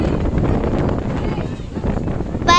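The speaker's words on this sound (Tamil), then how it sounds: "பயங்கரமாக காத்தடிக்குது" Strong wind buffets the microphone at the Pichavaram mangrove forest, a loud, rumbling gusty roar that fills the whole moment, with no clear talk over it.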